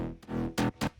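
Layered synth bass built from Avenger, Nexus and Serum presets, playing a quiet sustained tone followed by two short, louder, brighter stabs near the end.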